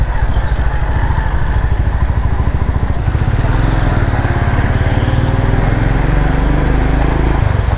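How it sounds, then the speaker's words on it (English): Moped engines buzz close by on a Moroccan mountain road while a Royal Enfield Himalayan is overtaken, a steady loud single-cylinder drone with rattling, continuous throughout with no talk. "Getting overtaken by bloody mopeds."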